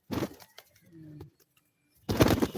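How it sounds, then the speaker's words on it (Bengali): Soft, low pigeon cooing sits in a quiet stretch between two bursts of nearby talking. "দেখুন গাইস খুবই সুন্দর কবুতর"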